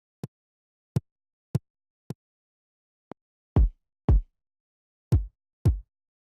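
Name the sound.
two different kick drum samples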